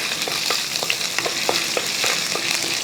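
Finely chopped ginger and green chillies fry in a pan as they are stirred. A steady, close sizzle carries through with soft, repeated scraping strokes and no voices.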